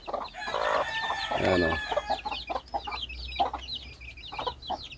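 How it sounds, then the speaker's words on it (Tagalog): Chickens and young chicks on a backyard farm, clucking and cheeping over one another with a crowing rooster mixed in, fairly close and continuous, with a brief spoken word partway through. "Mga sisiw."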